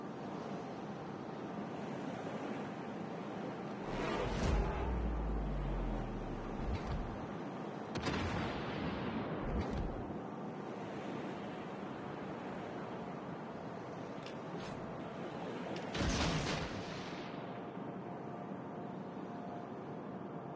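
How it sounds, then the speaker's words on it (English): Heavy naval guns of the Des Moines cruiser in a naval warship game fire in a few deep, booming salvos spread across the stretch, each broad blast fading over a steady wash of sea and wind ambience. "I still need to use the salvo from the Des Moines guns"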